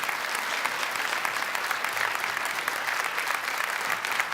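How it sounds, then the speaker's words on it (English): Audience at an MLK breakfast award ceremony gives a sustained round of applause, a dense, even clapping from a crowd indoors that runs throughout without a break. "Let's come up and give him a round of applause."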